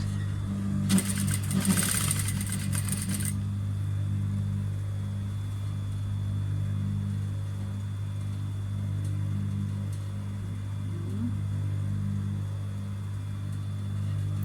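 A sewing machine hums steadily with a low, even drone while stitching the neckline of a wrap dress, with a brief rustle of fabric early on, close and continuous.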